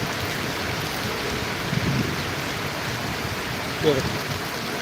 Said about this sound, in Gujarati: અત્યારે ધોધમાર વરસાદ ચાલુ છે